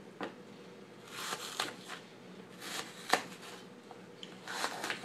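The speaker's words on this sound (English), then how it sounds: "And then you're just chopping up your apples." Apples being chopped for an apple cranberry pie, a soft irregular series of knife strokes on a board, close but fairly quiet, with scattered taps and rustles and no talking.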